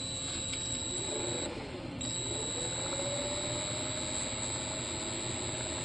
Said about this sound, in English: just run the motor up a little bit with a Dremel tool